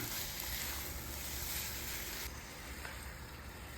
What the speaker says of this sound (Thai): เราก็จะเอาหมูครับ ลงมาผัด กับรากผักชีกระเทียมพริกไทยของเราแบบนี้ครับ